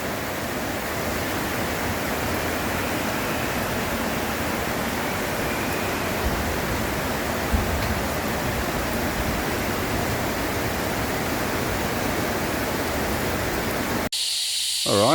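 Floodwater from a swollen creek after heavy rain rushes over a submerged bridge in a loud, continuous roar, steady throughout and cut off abruptly near the end.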